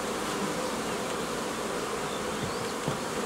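Honeybees buzzing at a newly formed swarm hive on five frames, a dense continuous drone of many bees, close and fairly loud, steady with no voices.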